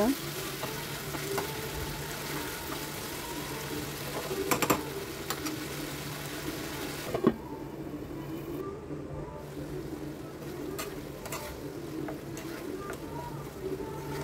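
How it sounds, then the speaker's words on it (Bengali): Medium-sized prawns fry in spice masala over medium heat for a pilao, giving a steady close sizzle with occasional stirring clicks and scrapes, and no talking over it. "এবার আমি মাছ দিয়ে ভালোভাবে মিডিয়াম আঁচে রান্না করে নেব"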